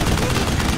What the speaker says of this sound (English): I like the machine gun.